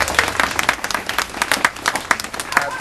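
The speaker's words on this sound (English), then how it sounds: "can we give them a big round of applause?" Audience applause at a community memorial event in Ladbroke Grove, a dense, loud burst of many hands clapping with sharp irregular claps throughout, no voices over it.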